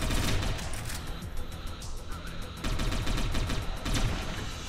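Rapid gunfire crackles in Satellite Reign, dense bursts of shots hammering away, briefly thinning in the middle before resuming at full intensity, with no voices over it.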